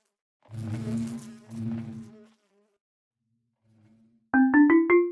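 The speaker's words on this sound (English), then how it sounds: "And we put our plutonium bees over here." Plutonium bees from the ATM10 Minecraft modpack buzz in short bursts, a low droning hum followed by a pause and then louder, sharper buzzing near the end, with no talking.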